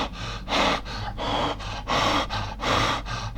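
A voice imitates the breathlessness of heart failure with rapid, heavy panting, about seven loud, close breaths in a steady rhythm, each a rough rushing in-out puff.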